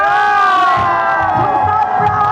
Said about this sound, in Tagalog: Ang kanilang sigaw ay We Stand Proud!